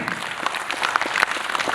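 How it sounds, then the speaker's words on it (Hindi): Audience applause at a cooperative-sector gathering, a brief burst of many hands clapping in a dense, crackling patter, moderately loud and close throughout. "जोरदार तालियां बजनी चाहिए"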